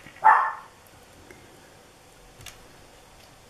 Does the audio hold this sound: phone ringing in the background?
no